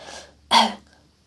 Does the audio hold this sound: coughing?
yes